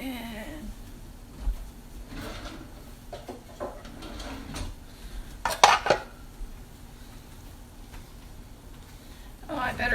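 A hot pan of vegetarian chili mac with pasta is handled in a home kitchen, giving a few scattered clinks and knocks of cookware, one sharper metallic clatter midway, with light background noise.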